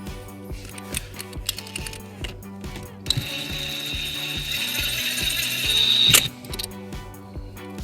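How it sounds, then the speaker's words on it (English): A ratchet with a 10mm socket clicks rapidly and steadily, close up, as it tightens an M8 nut during a trailer wiring harness installation on a 2012 Toyota Highlander, with a brief squeak near the end. "then we'll secure it with a 10mm socket"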